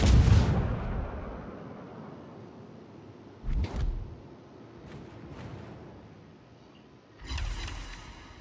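Heavy battleship gunfire in World of Warships: a big booming salvo opens the clip, followed by two further closer blasts midway and another loud salvo near the end, with rumbling low decay between them.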